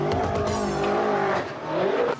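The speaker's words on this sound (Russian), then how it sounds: "Спортивные машины срываются с места." Sports cars driven by young thrill-seekers tear away from a standstill, engines roaring loudly with tyre squeal and skidding, a continuous close burst of hard acceleration with no talking.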